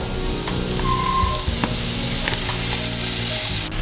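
Grated radish hits a pan of sautéed onions and chillies, producing a loud, continuous close-up sizzle with occasional stirring clinks and no talking.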